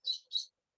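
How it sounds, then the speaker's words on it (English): Two quick high chirps from a small bird, clear and close against silence. "Whether it's the sound of the birds"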